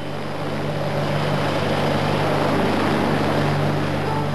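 A rescue helicopter's steady, dense engine and rotor drone holds throughout at a constant level, loud and unbroken, with no voices.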